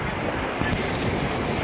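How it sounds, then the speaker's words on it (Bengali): Sea waves roll past a boat at sea, a steady close wash of water mixed with wind rumble on the microphone, continuous and fairly loud with no voices. "দেখুন আরেকটা ঢেউ আসছে, পরপর ঢেউ।"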